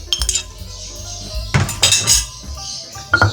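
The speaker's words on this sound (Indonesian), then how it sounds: "awalnya kita ulek dulu bawang putihnya ya Bunda ya" Garlic cloves pounded in a mortar with a pestle for sambal rimbang, giving close, repeated hard clinks and knocks in an uneven rhythm over a tonal background.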